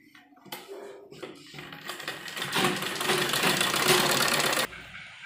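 A sewing machine joins a sleeve onto a baby kurti. It starts with a few short bursts, then builds into a fast, loud, continuous stitching run up close before cutting off abruptly.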